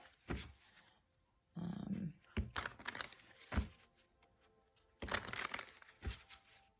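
A deck of tarot-style reading cards is shuffled quickly by hand, close up. Several short, crisp riffling bursts are separated by brief quiet gaps.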